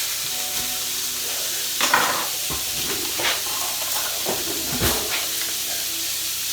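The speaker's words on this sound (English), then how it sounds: "that's been frying for about a minute." Steady sizzling of burger patties frying in a hot pan, with occasional louder crackles and pops over a constant hiss.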